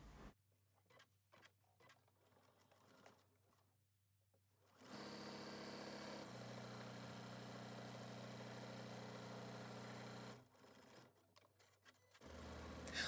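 A sewing machine stitches woven fabric for a steady stretch of several seconds with a close, even mechanical whir, framed by quiet handling clicks and a second brief burst of stitching.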